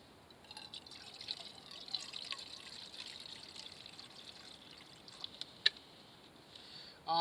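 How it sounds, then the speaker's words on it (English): Water trickles and splashes steadily into an 800 cc camping cookset pot on a lit Trangia Mini alcohol stove, a soft continuous pouring sound with a few small clinks near the end. "I'm going to add water to the pot."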